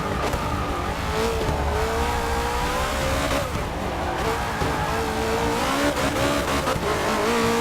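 Rear tires spin and squeal on a race car in the Forza 6 racing game while the engine revs hard and wavers at high pitch, loud and continuous with no talk over it.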